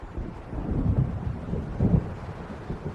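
Deep rolling thunder from an approaching storm in Alan Wake Remastered, two low rumbling swells over a few seconds, muffled and moderately loud with no talk.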